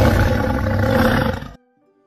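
A tiger gives one loud, sustained roar in a storytelling sound effect, lasting about a second and a half before cutting off abruptly into near silence.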